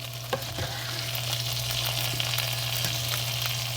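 Shallot and green beans hitting a hot pan with butter and almonds, a dense, steady sizzle up close with a few light stirring taps and a constant low hum underneath.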